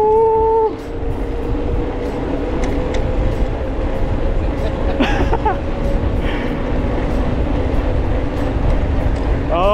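A Bafang BBSHD 1000W mid-drive electric mountain bike accelerating hard on its level 9 setting, its motor whine climbing steadily in pitch over a constant rush of wind noise, close and loud throughout.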